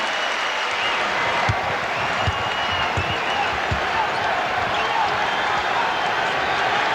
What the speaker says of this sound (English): The crowd reacting to the Knicks play.